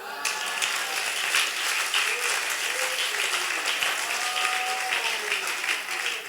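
Church congregation applauding the Lord, sustained dense clapping from a large crowd, loud and steady throughout, with voices faintly calling out beneath it.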